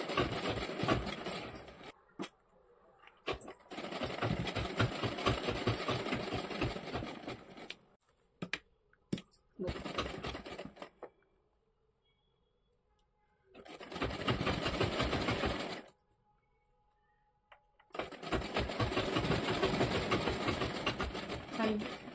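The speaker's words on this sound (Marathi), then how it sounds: "आपल्याला हे असं मदत घ्यायचं आणि हे इथून असे शिवून घ्यायचे" Bursts of a sewing machine running fast while stitching a saree, several long runs of steady whirring separated by quiet pauses and soft handling noises.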